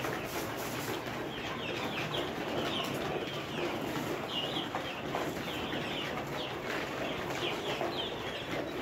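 Layer hens on a winter farm cluck in a continuous busy chorus, many birds at once at moderate distance, with occasional wing flutters.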